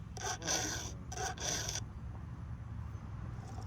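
A hand file rasps against the chain of a Stihl 362 chainsaw during sharpening, three close, scratchy strokes in quick succession, followed by quiet.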